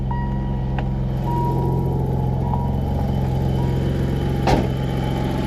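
A car engine idles steadily and close by, a constant low hum with faint intermittent beeps and one brief knock partway through; no one speaks.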